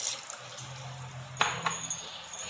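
Thick coconut milk poured into a cooking pot of goat varuval: a low gurgling pour followed by a couple of sharp clinks against the pot, fairly close.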